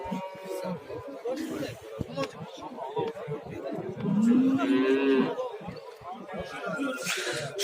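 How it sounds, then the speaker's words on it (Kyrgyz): Calves and cattle at a livestock bazaar in Kurshab, lowing with a clear rising moo near the middle amid crowd chatter and people talking close by. "Булдар эле сүт эмги торпоктор, мына эркек экен эки бул жактагысы."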